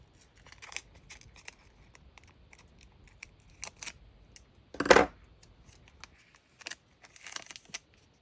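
Scissors snip paper for a creative journal in a few short, close cuts, with one louder crisp snip in the middle amid quiet rustling and small clicks.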